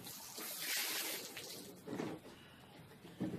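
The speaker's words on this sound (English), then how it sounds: "And then get the hose pipe." Water gushes from a hose pipe to wash off a table after cleaning crappie fish, a continuous rushing splash that shifts in intensity as the stream hits the surface.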